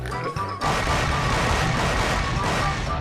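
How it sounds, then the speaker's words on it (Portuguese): Explosions in an Angry Birds fan animation as a castle full of pigs is blown apart: a dense, continuous roar of crashing blasts and debris, loud and sustained after a brief lead-in. "com muitas explosões."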